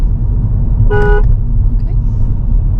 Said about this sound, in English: Could you show me how you check the horns working?